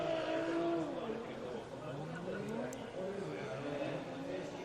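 Toyota Supra drift car engine idling and blipping on the start line at a Formula Drift Japan event, rising and falling revs heard at a distance beneath continuous commentary.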